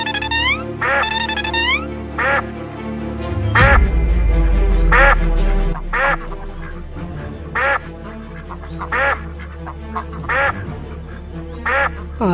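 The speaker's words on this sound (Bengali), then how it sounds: "আরে হাঁসগুলো এমন ডাকাডাকি করছে কেন?" Cartoon ducks quack loudly and repeatedly in short, nasal bursts about every second. A heavy thump lands partway through.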